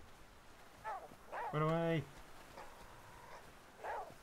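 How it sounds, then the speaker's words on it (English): Dog barks and whimpers in the survival video game The Flame in the Flood, a few short yelps and one sustained harmonic whine amid talk. "No, doggy, don't engage the pig!"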